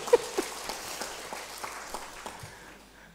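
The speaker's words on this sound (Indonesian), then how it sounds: "Boleh tepuk tangan dong ini." An audience at a book launch event claps, a burst of applause starting with a few sharp claps and settling into a steady patter that slowly fades, fairly distant in a hall.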